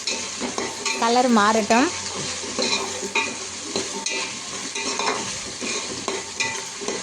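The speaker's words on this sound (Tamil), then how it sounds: "நல்லா கிளறி விடுங்கள்." Ingredients for a thiraka meen fish curry sizzle in a pan as they are stirred, with a steady frying hiss and the scrape of a spoon against metal. A voice speaks briefly over the cooking.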